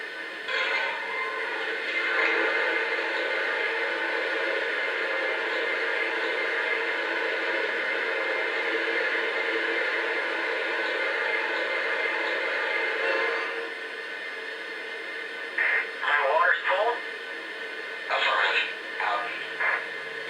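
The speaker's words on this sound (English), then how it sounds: "Here's the sound of water being added to the tender" Water filling the tender of a Lionel Legacy Pennsylvania Railroad S2 steam turbine model train plays as a long steady hissing gush, then drops to quieter intermittent splashes and clanks near the end.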